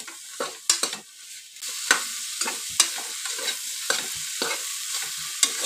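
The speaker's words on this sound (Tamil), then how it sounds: "இப்போ இதெல்லாம் போட்டு நல்லா வதக்கி விட்டுக்கலாங்க." Carrots, beans and snake gourd sautéed in a pan for vegetable kurma, with repeated scraping stirs of a spatula over a steady sizzle, close and fairly loud.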